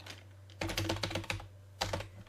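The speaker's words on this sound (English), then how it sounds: "by typing in on my keyboard and put a comment up" Typing on a computer keyboard at a PC, heard as bursts of rapid, close key clicks separated by brief pauses, with no voices.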